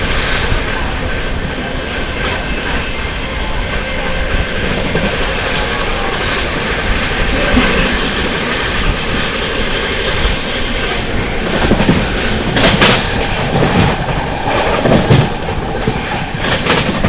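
An Amrit Bharat Express train runs on rails in heavy rain, with loud, continuous rumble and rhythmic clickety-clack from close inside, sharp wheel clatters bursting in near the end.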